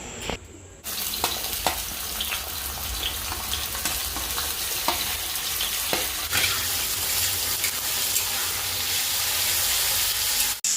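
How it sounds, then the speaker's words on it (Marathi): Onion and tomato fry in hot oil in a kadai, a continuous loud sizzle with occasional stirring clicks, close up and with no talking. "आता कढईत तेल गरम करून कांदा टोमॅटो छान भाजून घ्या"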